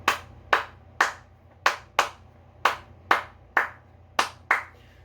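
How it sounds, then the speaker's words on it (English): Single pair of hands clapping a steady rhythm for a zydeco tune, about ten sharp, close claps evenly spaced alone in a quiet room, each with a short ringing decay. "and then the clapping, which this is the clapping rhythm"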